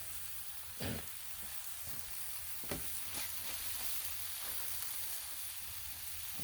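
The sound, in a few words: homemade ghee sizzling on a Blackstone griddle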